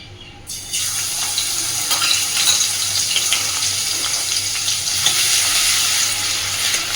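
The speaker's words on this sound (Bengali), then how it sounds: "এইবার আমি এই সাদা তেলের মধ্যে প্রথমেই দিয়ে দিচ্ছি ফোড়নে বেশ অনেকটা পরিমাণে থেতো করা রসুন।" Plenty of crushed garlic drops into hot white cooking oil and sizzles with a bright, steady hiss that bursts in suddenly and stays loud and even, with faint stirring clicks, no voices.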